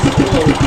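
A boat engine running smoothly after an oil change, close up, with a steady idle of rhythmic low pulses and no voices.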